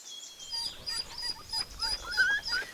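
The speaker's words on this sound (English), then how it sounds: "having wild dogs denning on the property" African wild dog pups, young enough to have folded ears, whimper and yip in a den on a safari property, giving repeated thin high whines in short bursts, close and clear against quiet bush with no talk.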